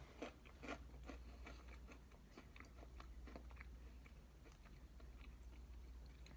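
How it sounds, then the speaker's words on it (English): Quiet, close-up crunchy chewing of unbuttered bread from New Orleans fine-dining takeout, with irregular bites and crackles repeating over a low background hum. "So I'm gonna try some bread without any butter"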